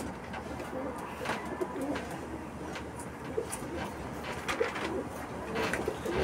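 A red racing pigeon, kept for treatment of a cold and an eye infection, coos in low, soft repeated rolls close by, above faint background rustle and a few light knocks.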